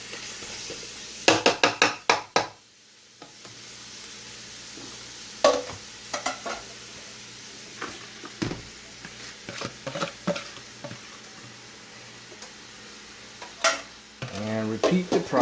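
Collard greens sizzle in a pot as a utensil stirs them, with bursts of scraping and knocks against the metal between quieter stretches of steady frying. Near and moderately loud, with a louder flurry of scraping toward the end.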